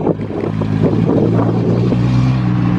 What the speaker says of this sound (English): The only TR6 here.